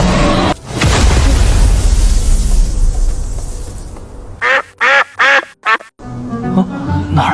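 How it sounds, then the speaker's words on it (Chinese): A duck quacks in a run of four or five loud, close, rapid calls after a booming rumble fades, followed by further quieter sounds. "哪来的鸭子？"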